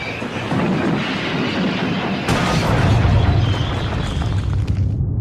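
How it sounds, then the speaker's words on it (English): A steam engine rumbles loudly as it brakes hard on approach to a tunnel under repair, with a sharp crack partway through and a heavy low roar that cuts off abruptly. "His driver reduced steam and braked hard."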